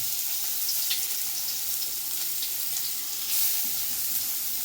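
Cinnamon, a whole dried chili, bay leaf and chopped onion frying in hot oil in a home kitchen, giving a steady, soft hiss of sizzling with a brief louder crackle near the end.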